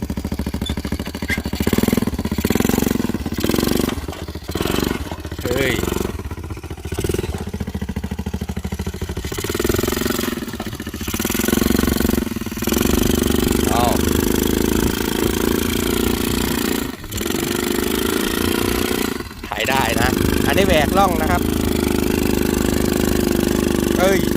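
A homemade farm tractor built around a motorcycle engine runs with a steady mid-pitched putter that rises and falls as it is revved and geared, with people talking over it.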